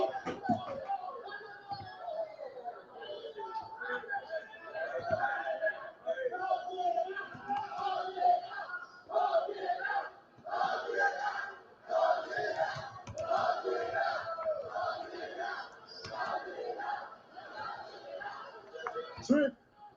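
Crowd noise at a WWE NXT wrestling event, a steady roar of many voices with shouts and chants rising and falling throughout, fairly close and loud.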